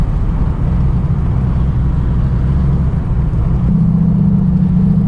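Turbocharged Pontiac G8 making around 1000 wheel horsepower, accelerating hard with wheelspin on a cold street, heard as a loud, continuous engine roar from inside the car with the pitch rising near the end.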